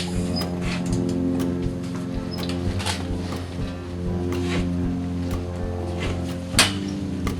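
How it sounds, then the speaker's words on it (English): A small diamond cut-off tool grinds a horse's teeth in a stable, giving a steady motorized hum with a tonal whine, overlaid by scattered scraping clicks and a louder knock near the end. "So we use a little diamond cut off here."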